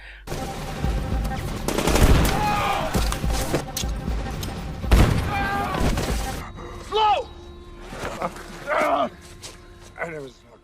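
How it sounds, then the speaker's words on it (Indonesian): Loud, dense bursts of automatic gunfire and heavy blasts from a film firefight, then the shooting drops away and voices talk and shout. "langsung terjadi baku tembak menegangkan"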